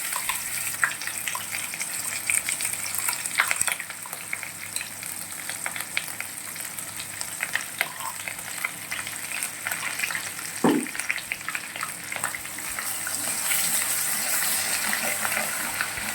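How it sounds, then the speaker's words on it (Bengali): Ground spice paste fries in oil over low heat, a moderate, crackling sizzle with intermittent stirring and scraping noises up close. It continues steadily, with one sharper clink near the middle. "মশলাগুলোকে হালকা আঁচে ভেজে নেব, কষাই করে নেব"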